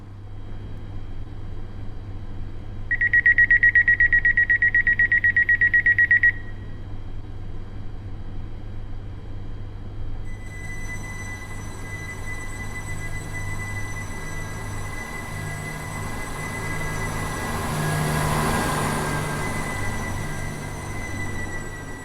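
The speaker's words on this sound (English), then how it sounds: "The train now standing at platform 5." Train standing at a station platform in a video game, a steady low engine hum with a sustained electronic tone early on, then a broad hiss of air or ambient noise rising and fading later.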